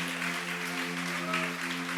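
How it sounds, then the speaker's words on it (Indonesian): A congregation claps at a church anniversary service, steady moderate applause over a sustained musical hum from the stage sound system. "berikan tepuk tangan buat Nelson Bernard Kincham"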